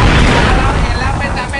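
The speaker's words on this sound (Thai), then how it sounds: "เอาระเบิดไปก่อนปาระเบิดไปก่อน" A grenade explodes in the first-person shooter Xshot Online during a competitive match, a loud, close, booming blast with a rumbling tail that fades over under two seconds.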